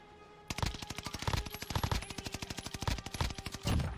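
Volk rifle fired in a first-person shooter game, a rapid, sustained burst of loud automatic shots in a steady rhythm lasting several seconds, with no talk over it.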